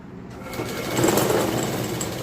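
A sewing machine runs a straight stitch through fabric, giving one continuous close mechanical whir that grows slightly louder over a couple of seconds.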